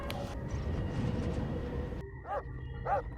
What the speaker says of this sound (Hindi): और बाहर कुत्ते भी भौंक रहे हैं बे।